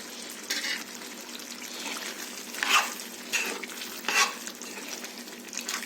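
Chicken fry gets stirred in a pan, soft sizzling underneath broken by several louder scraping stirs of the spoon at irregular intervals, up close with no voices.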